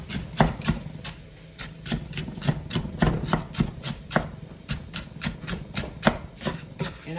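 Knife chopping frozen cauliflower rice on a board in a home kitchen, a steady run of about twenty sharp, close, evenly spaced cuts with no talking.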